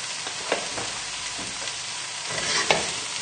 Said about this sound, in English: just keep the mushrooms moving around in the pan